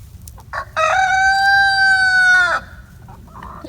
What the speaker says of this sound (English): That rooster just threw his voice.